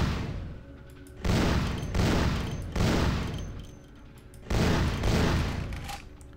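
Enemy gunfire in Vampire The Masquerade Bloodlines comes in loud, heavy bursts, about four volleys separated by short quieter gaps, close and booming.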